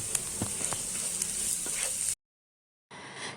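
Finely chopped onion cooks with a potato sandwich filling in a hot pan, making a steady sizzle with occasional stirring taps. The sound cuts out to silence briefly, then the frying resumes.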